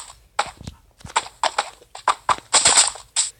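A horse on a farm clip-clopping at a slow pace, its hoof strikes landing in an uneven series of sharp, fairly close taps with brief gaps between them.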